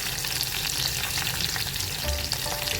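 Garlic and green chillies frying in oil over a low flame, a steady close sizzle with soft crackling and faint stirring scrapes throughout, no voices.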